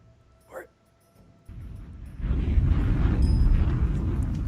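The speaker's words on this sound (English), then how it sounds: "Okay, explosion." A loud explosion effect plays through speakers, a sustained low-heavy roar that swells up and holds for a couple of seconds after a brief quieter start, with a short voice blip near the beginning.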